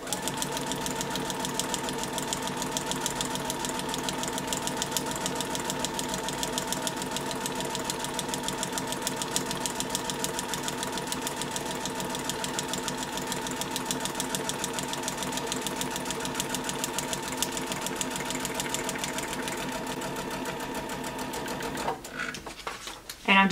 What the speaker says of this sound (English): And then I'm going to sew down.